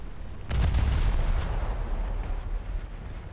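Naval gunfire in War Thunder slams into a ship with a loud, deep boom that rolls into a rumbling, crackling decay lasting a few seconds, with no voices over it.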